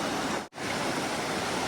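River water rushes loudly at a trail river crossing, a dense, steady roar that cuts out for an instant before resuming.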